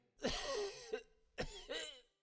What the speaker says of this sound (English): My throat is grown sore, and I cough day and night.